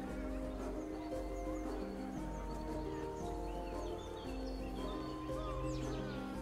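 A horse neighs and whinnies in a medieval city builder video game. Hooves clip-clop and faint birds chirp over a continuous tonal music bed, all at low volume with no talking.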